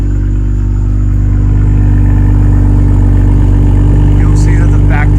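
A BMW M340i with its factory exhaust valve open idles in comfort mode, giving a loud, steady low rumble throughout, with a faint voice briefly at the end.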